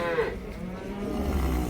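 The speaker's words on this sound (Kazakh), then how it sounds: "Бұзау сиырлар" Cattle at a livestock market let out a single drawn-out moo, close and clear over a low crowd murmur.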